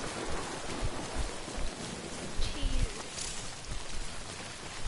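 Steady rain falls in the Death Stranding video game, a dense continuous hiss of drops on surfaces with faint low rumbles beneath, unbroken for the whole stretch.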